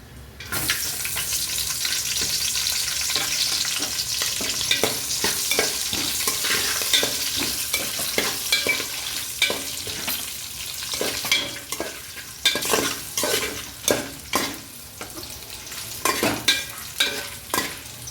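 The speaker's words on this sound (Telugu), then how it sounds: "అలాగే కట్ చేసుకున్న ఒక ఉల్లిపాయ, 4 పచ్చిమిర్చి అయితే వేసుకుంటున్నానండి." Sliced onion and green chillies frying in a pan with a steady, close sizzle, broken by frequent scraping stir strokes that grow more distinct toward the end; no voices.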